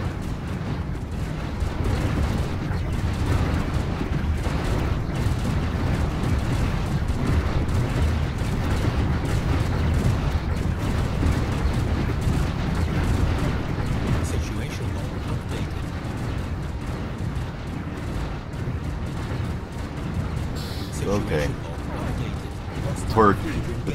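Torpedo explosions roll through a space fleet battle in Stellaris as a continuous rumble of booms and blasts, steady and heavy, with a voice talking over the barrage.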